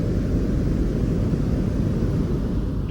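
Steady white and pink noise plays continuously, a dense, even hiss weighted toward the low rumbling end, unchanging and alone for the full few seconds.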